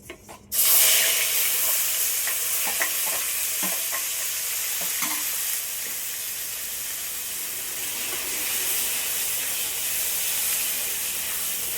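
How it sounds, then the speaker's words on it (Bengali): Grated onion dropped into hot oil left over from frying fish, a sudden loud sizzle that settles into steady hissing frying with a few faint stirring clicks. "মাছ ভাজা তেলের মধ্যে দিয়ে দিচ্ছি গ্রেট করে রাখা পেঁয়াজ"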